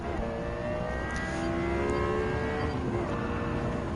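The Lexus LFA's V10 engine roaring in Gran Turismo 7, a loud, sustained high-revving drone with a steady tonal whine holding throughout.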